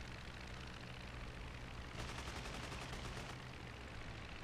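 A rapid burst of machine gun fire crackles for about a second and a half over the steady drone of a Sopwith Camel's engine in the Rise of Flight WWI flight game, faint and at some distance.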